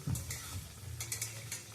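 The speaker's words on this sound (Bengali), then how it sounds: "এবার এই তেলের মধ্যে নানপুরিগুলো ছেড়ে ছেড়ে ভেজে নেব।" Naan puri frying in hot oil gives a soft steady sizzle with a few stirring and scraping touches of utensils in a pan, quiet and close, with no talk.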